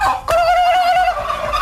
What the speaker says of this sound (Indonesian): pasti semua kalkun yang ada di peternakan ini ikut membalasnya